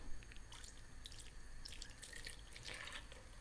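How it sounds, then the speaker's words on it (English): Ginger, garlic and chili water poured into a cooking mixture, a faint patter of splashes and drips in a quiet kitchen with no voices. "Ginger, garlic and chili water. We're just going to pour that in"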